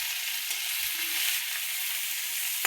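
Ginger garlic paste frying in hot oil, a steady bright sizzle that holds evenly throughout, close up, with faint stirring bumps and no talking.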